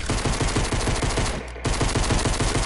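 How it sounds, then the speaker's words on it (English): Rapid gunfire from a hand cannon and pistol in a video game, dense repeated shots with a brief lull near the middle before firing resumes, loud and close. "I hit him with a hand cannon and a pistol"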